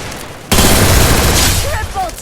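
MP40 submachine gun fire in the video game Free Fire erupts abruptly into a loud, sustained automatic burst lasting over a second, followed by a few brief tonal game effects.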